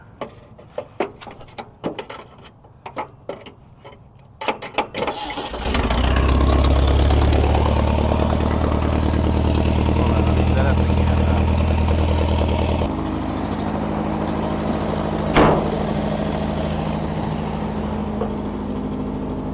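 A 1961 Volkswagen Beetle, a barn find with a troublesome starter, cranks with a few uneven clicks before its engine catches and settles into a loud, steady idle close by.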